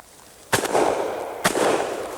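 Two sharp shotgun blasts about a second apart at a congressional trap shoot on a farm, each firing at a clay target and followed by a rolling outdoor echo, with no talk.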